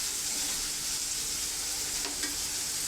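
Onions and green chillies frying in a pan, a steady loud sizzle with a bit of stirring, close up and with no talk.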